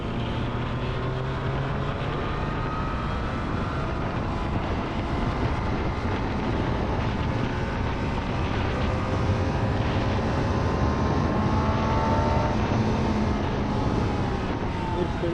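Triumph Daytona 660 motorcycle engine running steadily while riding, a continuous broad drone with wind rush throughout, close and constant with gentle shifts in pitch.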